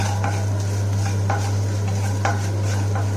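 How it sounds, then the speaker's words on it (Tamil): Steady stirring and scraping of salt roasting in a hot pan, with a faint sizzle and a few louder scrapes over a constant low hum. "இப்போ உப்பை வறுத்துக்கிட்டு"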